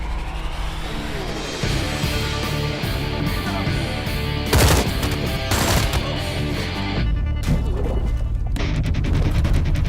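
Gunfire erupts in a TV drama scene, with dense bursts of rapid shots, crashes and booms layered over a loud, busy soundtrack, two especially heavy blasts standing out midway.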